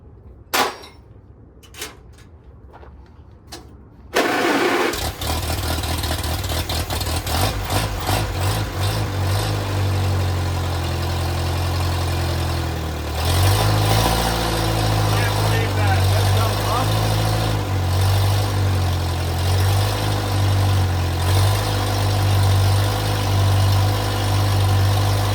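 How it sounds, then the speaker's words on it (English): An antique Allis Chalmers B tractor engine, long unused and with a cracked block, cranks a few times with sharp pops, then catches and settles into a loud, steady, lumpy idle that runs to the end. "I'm gonna hook up a fuel line to the carb and see if I can make it run"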